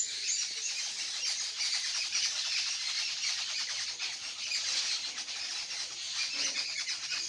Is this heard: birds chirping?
yes